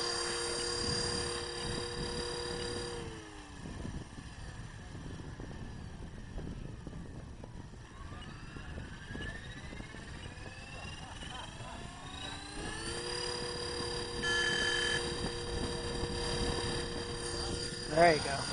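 A Blade 330X RC helicopter in flight gives a whining rotor and motor drone whose pitch sweeps down and back up as it maneuvers, heard at moderate distance over outdoor ambience.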